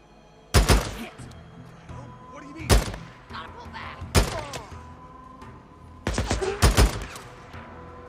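A newly equipped gun in Days Gone fires about five loud, heavy shots spaced a second or two apart, the last two close together. Quieter game sounds and a little talk fill the gaps.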